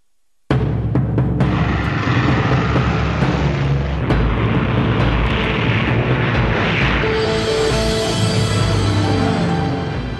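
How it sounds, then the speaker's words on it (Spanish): Military aircraft over Cairo during the Suez Crisis air raids, a loud sustained roar with sharp bangs and thuds, turning into a rising whine near the end. "Nasser oye aviones sobrevolando El Cairo."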